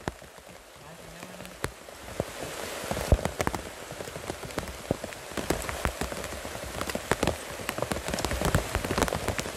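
Rain falling steadily in an old-growth forest, a constant patter of drops on leaves and surfaces with sharp nearby drips, loud and close, with a brief faint voice early on.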